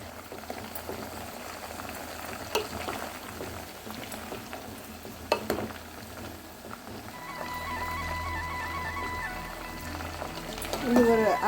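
Herbal hair oil simmers gently in a pan over a low flame, a soft continuous bubbling and crackle under a voice speaking throughout.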